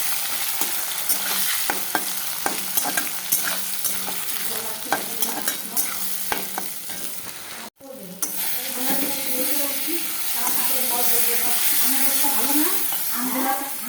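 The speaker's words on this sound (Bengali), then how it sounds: "আর এখন এখানে কুচানো পেঁয়াজটা দিয়ে দেবো। ভালো করে একটা কষাটা" Chopped onions sizzle steadily in a pan while being stirred for a Bengali mutton curry, a continuous frying hiss with scraping stir strokes, briefly interrupted before the sizzling resumes louder and busier.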